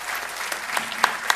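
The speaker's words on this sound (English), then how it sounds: "A round of applause for them, please." An audience at an arangetram dance recital applauds, a dense patter of clapping with a few sharper claps standing out, steady and moderately loud throughout.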